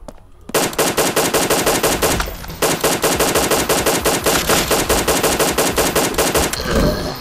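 Sustained automatic fire from an AK rifle in the zombie shooter game BrainBread 2, a loud, rapid rhythmic burst of shots running for about six seconds before cutting off.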